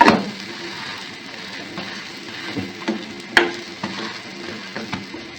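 Omelette sandwich mixture of egg with bread slices sizzles steadily in a pan, a soft continuous frying hiss with a few light clicks and taps of a utensil, no voices.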